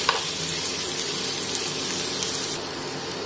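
Onions frying in a pan for a chicken capsicum dish, a steady soft sizzle with faint crackle running evenly throughout, close and moderately quiet with no voices.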